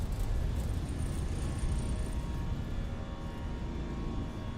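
Airbus jet engines in Microsoft Flight Simulator 2024 rumble at takeoff power down the runway, a loud, continuous low roar with a faint high whine layered on top.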